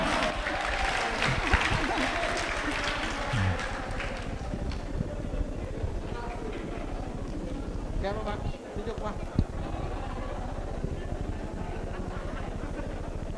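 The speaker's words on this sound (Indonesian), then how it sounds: "Tepuk tangan." An audience at a public lecture with a Sharia faculty dean claps in a dense burst for about four seconds, then the applause thins into crowd murmur and speech.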